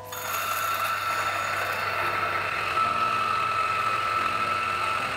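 DF64 coffee grinder grinding 18 grams of espresso beans, a steady high-pitched whirring motor whine that starts almost immediately and runs without a break to the end.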